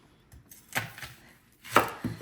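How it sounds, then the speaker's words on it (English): An onion is chopped on a board at home while a meatloaf is being made: two sharp, close knife strikes about a second apart, each with a fainter follow-up tap, then quiet, with no talk. "Now we're gonna chop the onion."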